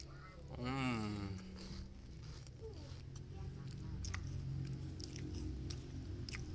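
A crunchy Nabati Richoco chocolate wafer is bitten and chewed close to the mic, giving quiet, crisp crunches alongside a humming voice.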